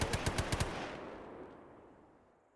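M240 machine gun in Arma 3 firing a short burst of six rapid, loud shots, followed by a long rolling echo that decays over about two seconds.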